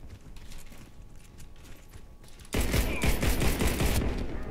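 Rapid shots from a CZ 75 Czechmate pistol in the shooter game Warface, a quieter stretch of distant firing and mechanical clatter followed by a sudden louder run of quick close shots.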